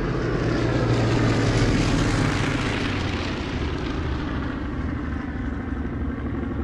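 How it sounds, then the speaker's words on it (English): Several Dakota wartime transport planes take off towing gliders, a loud, steady propeller-engine roar that holds throughout and fades slightly toward the end. "They take off clumsily, sometimes in pairs, towed by Dakotas, the king of wartime transport planes."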